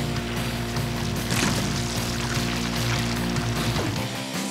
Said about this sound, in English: The cement is mixed and ready to pour!